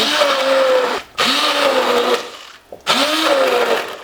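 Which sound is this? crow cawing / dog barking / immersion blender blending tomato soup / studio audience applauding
immersion blender blending tomato soup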